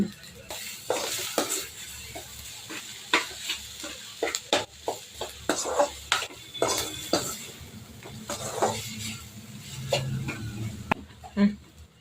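Grated boiled raw banana with a green chili being sautéed in a pan, with a spatula repeatedly scraping and tapping the metal over a soft sizzle in irregular close strokes.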